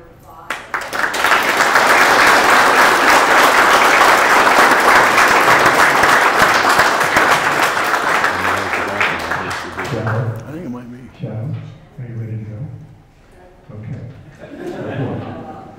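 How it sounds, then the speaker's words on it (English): An audience applauds at a presentation about a donation hospital train and Union Pacific steam locomotives. The dense clapping is sustained for about eight seconds, then fades as people talk and chuckle. "I just want to make sure that we give him a round of applause."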